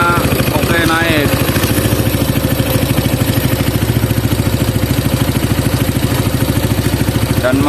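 A rebuilt Honda GL100 motorcycle engine idles close by with a steady, rapid mechanical chugging and light clatter throughout, while someone talks briefly over it near the start and end.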